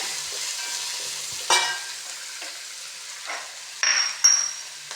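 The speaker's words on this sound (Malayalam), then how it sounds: "മുളക് അരിഞ്ഞതും ഇട്ട് കൊടുക്കാം നല്ലപോലെ ഇളക്കി കൊടുക്കാം" Chopped chilies and onions fry in a pan for chicken curry, a soft steady sizzle under a few scrapes and clinks of the stirring spoon.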